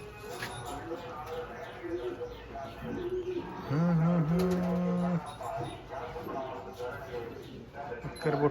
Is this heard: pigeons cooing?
yes